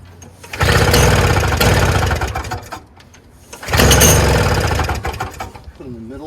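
A Toro 7HP R-Tek 2-stroke single-stage snowblower engine that won't start, being pulled over twice, with two loud bursts of rough churning each lasting a couple of seconds, separated by a quieter pause, and a brief voice at the end.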